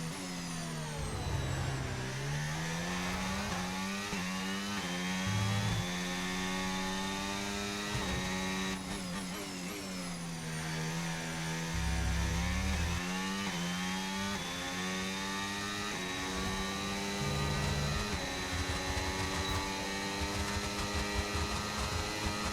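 A Formula 1 car engine screams through a qualifying lap in the F1 25 video game, high-pitched revving rising and dropping with gear shifts and braking, continuous and fairly faint, no voices.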